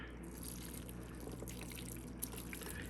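Liquid poured while cooking for a baby shower: a faint, close trickling and dripping that continues steadily, with one brief sharper splash near the end.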